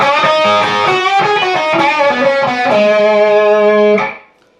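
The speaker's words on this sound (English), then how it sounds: "So that lick during the first chorus will sound like this" A distorted electric guitar lick from the first chorus of a song, a classic rock-and-roll-style move with a bent third string, loud rapid notes settling into a sustained ringing bend that then fades.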